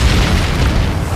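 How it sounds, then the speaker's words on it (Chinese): A loud bombing-zone explosion from the updated sound set of the video game Peacekeeper Elite, heard as a deep, continuous boom and rumble with no talking. "这是新版轰炸区的音效"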